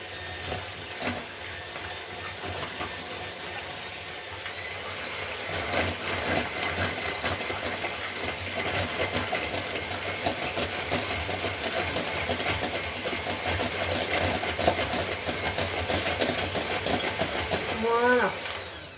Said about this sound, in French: Et vous commencez par battre vos œufs. Donc moi je prends le batteur